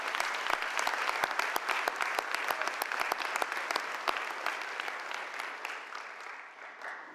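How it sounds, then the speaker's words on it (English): Audience at a Newport News Police Department academy graduation applauds steadily, dense close clapping holding strong for about six seconds before thinning and fading at the end, with no talking. "Would you please join me in a round of applause and give them an appreciation?"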